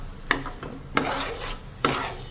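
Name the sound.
mixing prawn roast with vegetables in a pan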